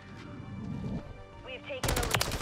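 M13B rifle in Modern Warfare 3 fires a loud, dense burst of rapid gunshots that starts abruptly after quieter game ambience and runs to the end.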